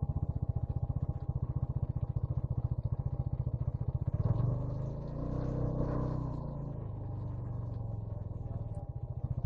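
A motorcycle engine idles with rapid, regular pulsing, then revs up loudly before settling back to a steady idle nearby, at a spot where bikers gather with KTMs and an R15.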